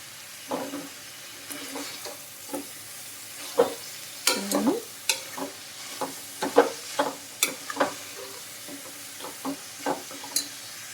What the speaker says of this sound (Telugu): క్యాబేజ్ కొంచెం ఫ్రై అయిందండి.